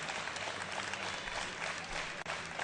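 A crowd at a world classic powerlifting competition applauds during the men's 83 kg deadlift session, a continuous wash of clapping and cheering at moderate distance.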